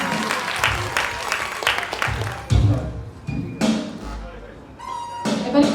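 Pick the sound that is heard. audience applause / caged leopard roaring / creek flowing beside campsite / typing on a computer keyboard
audience applause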